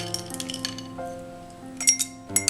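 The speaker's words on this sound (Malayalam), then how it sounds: "ഇനി ഇതിലേക്ക് ഐസ്." Ice cubes drop and clink into a glass for homemade lime juice, a few bright, sharp clinks scattered over a couple of seconds with quiet pauses between.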